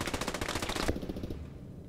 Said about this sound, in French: Qui c'est qui me tire dessus là?